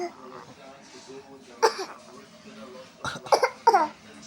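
A young child imitates a grandmother's cough, giving a few short, breathy coughing bursts near the microphone, separated by quiet pauses, with an adult voice speaking softly in between.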